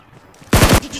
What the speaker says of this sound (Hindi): सामने से उसका आखिरी बंदा जो है फायरिंग करता है